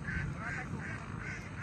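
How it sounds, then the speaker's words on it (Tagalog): Ducks quacking in an outdoor morning scene, a steady run of repeated calls under continuous background noise, fairly close and moderately loud. "Ang daming itik sa kabila, ah."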